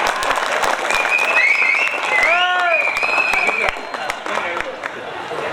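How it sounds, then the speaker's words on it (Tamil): Audience clapping at a Tamil stage talk about a Singapore drama opportunity, a continuous wash of hands under a sustained voice-like harmonic sweep in the middle, fairly loud throughout. "சிங்கப்பூர் நாடகத்துக்கு வாய்ப்பு கிடைச்சு ஒரு கைதட்டு கொடுக்கலாம் எல்லாருமே."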